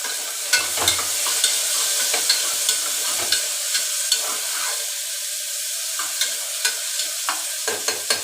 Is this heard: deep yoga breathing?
no